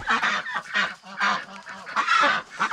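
Farm geese kept with ducks let out several loud, close honks in quick bursts separated by brief pauses, overlapping calls from more than one bird.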